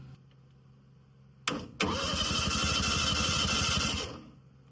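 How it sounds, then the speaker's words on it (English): A 1963 VW Beetle's 1300cc engine, being revived after a loose wire was found and with no fuel supplied, gives two sharp clicks and then cranks over in a fast, even rhythmic churn for a few seconds without catching, up close. "She's turning over."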